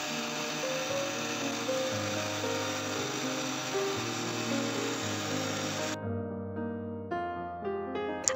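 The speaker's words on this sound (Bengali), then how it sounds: "তারপর ব্লেন্ডারের ঢাকনাটা লাগিয়ে দিয়ে প্রথমে লো স্পিডে, তারপর হাই স্পিডে ব্লেন্ড করে নেব।" Electric blender running steadily as it blends mango lassi, a loud continuous motor whine with shifting pitch that cuts to a higher, cleaner tone near the end, alone without talk.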